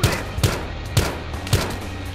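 Gunshots in Battlefield Hardline, four evenly spaced single shots about half a second apart, each a sharp close crack with a short tail.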